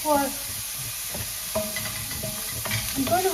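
Ginger, garlic and chilies frying in a hot skillet, a steady close sizzle with occasional stirring scrapes and taps throughout.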